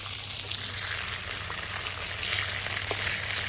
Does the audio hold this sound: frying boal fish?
yes